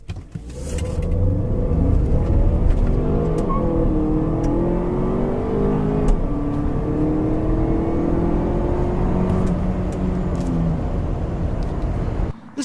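A 2015 Volvo XC60 SUV accelerates hard, heard from inside the cabin. The loud engine note climbs in pitch through several rising sweeps, with shifts between them, and stays strong and continuous until it cuts off near the end.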